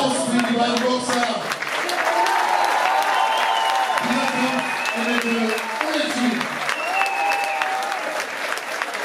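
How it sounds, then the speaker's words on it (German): Steady applause for two boxers at a fight night fills the hall with a dense patter of clapping, while a voice talks over it through amplified sound. "deshalb nochmal der Applaus für die beiden Boxer"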